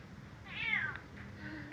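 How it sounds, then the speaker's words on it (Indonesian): A cat in a backyard garden gives one clear, close meow, then a softer trailing call, with no talking. "ada kucing, kucing,"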